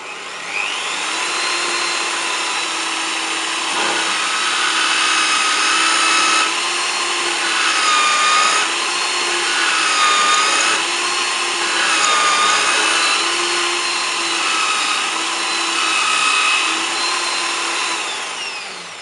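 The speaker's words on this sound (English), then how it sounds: "So we did drill through the wood and the steel at the same time." A power drill whines steadily and loudly, its pitch dipping and rising repeatedly as the bit bores through walnut wood and steel together, with no talking.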